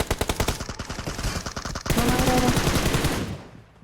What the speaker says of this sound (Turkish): hadi bir silah sesi